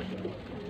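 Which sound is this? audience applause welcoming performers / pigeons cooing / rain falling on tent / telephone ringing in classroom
pigeons cooing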